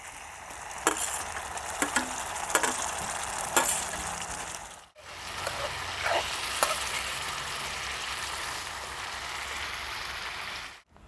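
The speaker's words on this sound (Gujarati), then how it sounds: "આપણા કાંદા ટમેટાં તેલમાં સડી ગયા છે" Onions and tomatoes frying in oil in a pan give off a steady sizzle, with a few sharper stirring scrapes near the start and a brief break midway.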